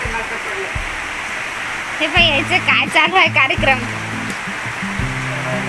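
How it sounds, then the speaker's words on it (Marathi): Floodwater rushes hard through a drain in a steady, loud, continuous wash, with someone talking over it partway through. "किती जोरात चालू आहे पहा, पुरच चालला आमच्या नालीतूनच. एवढं जोराने आलं पाणी"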